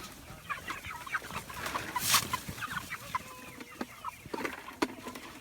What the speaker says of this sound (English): Now these are exceptionally well-fed chickens.